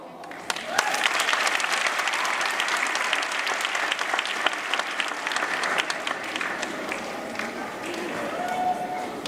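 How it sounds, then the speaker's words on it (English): Enthusiastic audience applause for parents at a Grade 12 medical academy graduation, a broad sustained burst of clapping with crowd noise that continues for several seconds before easing slightly. "they deserve our applause"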